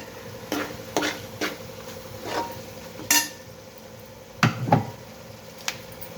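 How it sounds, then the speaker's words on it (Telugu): Tomatoes go into a hot pan of prawn and drumstick curry and get stirred: a handful of sharp scraping stirs and clanks against the pan at uneven intervals, over a faint sizzle, close by and with no voices. "ఇక టమాటాలు కూడా వేసేస్తున్నాను"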